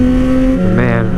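A supermoto motorcycle engine holds a steady, loud, close idle-to-rev drone with a pitch rise near the end, on a lakeside road; a voice speaks briefly over it.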